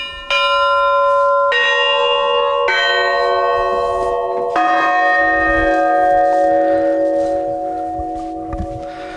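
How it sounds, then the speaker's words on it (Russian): Church bells rung at Easter by children and adults, with loud, overlapping strikes that start a new peal every second or two and leave a long ringing sustain, with no voices. "и дети, и взрослые в Пасху могут звонить в церковные колокола до самого утра"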